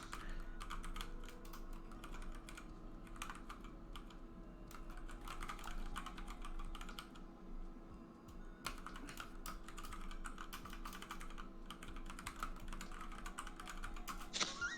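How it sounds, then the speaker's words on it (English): Several people typing at once on computer keyboards, a dense stream of clicky keystrokes at steady moderate level with a brief lull midway, over a low constant room hum. "3 people's typing all at once."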